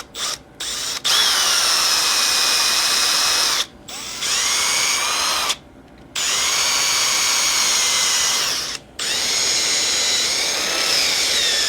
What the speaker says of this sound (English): And this is really hard wood, so it's going to take a while to go through. I'll switch to a smaller drill to finish.